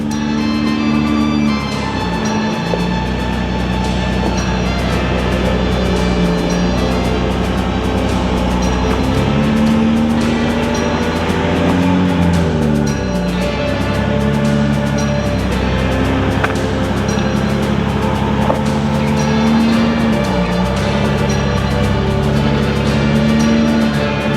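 A van's engine labors steadily while climbing an off-road hill in 4-wheel low range with the front differential engaged, a loud continuous drone whose pitch rises and falls with throttle, close up and with no talk.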